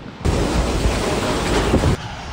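A loud, roaring rush of typhoon wind in northern Luzon buffets the microphone, a dense continuous blast that cuts in suddenly and stops after a couple of seconds.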